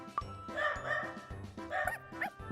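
Small chihuahuas yip and bark in repeated short, high bursts inside the video game Obey Me! Nightbringer, close and fairly loud against game music.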